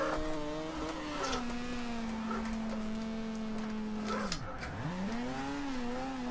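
Car drifting in the racing game Forza Horizon 2, played with a wheel: a sustained steady engine note holds through a long corner, then dips sharply and climbs back with tire scrubbing, fairly quiet and without talk.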